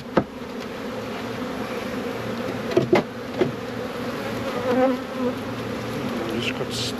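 Honeybees buzzing steadily around a nuc hive in summer, a close, continuous drone with a few sharp knocks and rustles from handling the box.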